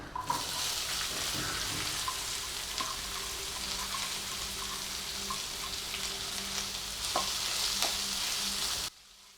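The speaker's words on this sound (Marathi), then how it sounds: "इथे मी दोन कांदे चिरून घेतलेले आहेत ते घालते" Two chopped onions hit a pan of reddened garlic and fry with a steady, dense sizzle and occasional stirring clicks, close up, ending abruptly; no one speaks.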